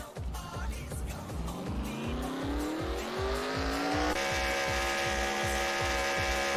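In a stock-car racing game at Talladega, a car spins out with screeching tires over a loud, droning engine whose pitch climbs steadily, accompanied by rhythmic throbbing pulses.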